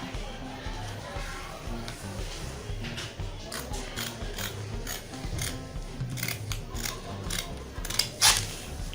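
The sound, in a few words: cutting fabric with scissors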